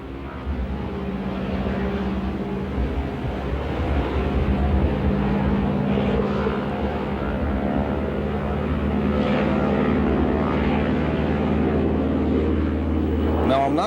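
T-6 aircraft engine at full power with full flaps for a short-field takeoff: a loud, steady, droning propeller roar that holds strong throughout, with a narrator talking over it.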